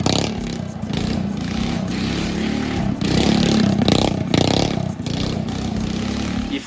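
A homemade portable off-road go-kart with a mid-mounted engine runs on a gravel surface while drifting in circles; a loud, steady engine drone carries on throughout, with surges in revving and gravel crunching and clattering beneath it.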